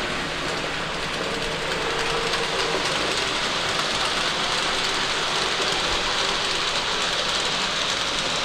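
A Farish N gauge GWR Castle Class model locomotive runs on its track with a steady, close whir and fine rattling hiss. The sound holds at an even loudness throughout.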